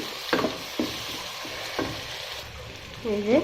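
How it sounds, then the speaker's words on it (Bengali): Prawns frying with onion, turmeric, chili and salt, giving a continuous sizzle with several sharp stirring scrapes of a spatula against the pan. "আমরা কেন চিংড়ি মাছগুলো এটাকে দিয়ে ভেজে নিব আরও কিছুক্ষণের জন্য"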